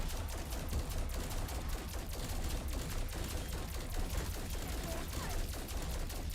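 Sustained automatic gunfire from Call of Duty: Cold War Zombies on the Mauer map, a dense, continuous rattle of rapid shots with overlapping game sounds, loud and unbroken throughout.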